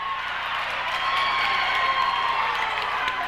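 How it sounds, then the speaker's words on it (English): A good-sized crowd cheers steadily at an AAU youth basketball game in a gym, a continuous roar of voices holding loud and even throughout. "Whistle couldn't be heard over the crowd here, and it's a good crowd for an AAU game"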